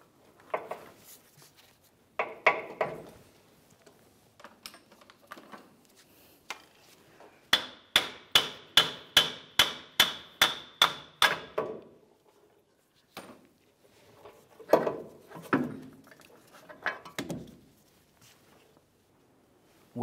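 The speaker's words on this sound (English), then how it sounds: "gonna tap on the axle. Try forcing it away from the vehicle itself." Hammer taps on the driver-side axle stub shaft of a 2005-2010 Dodge Dakota, a steady run of about a dozen sharp metallic strikes in the middle, with scattered knocks and clanks of the axle being worked free before and after.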